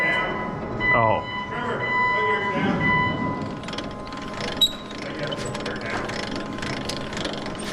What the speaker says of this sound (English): the hydraulic motor that runs the drive is going backwards